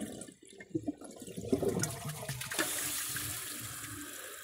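A 2009 Kohler Wellworth toilet flushes, with a few splashes and clunks at first, then a steady, close rush of water filling the bowl.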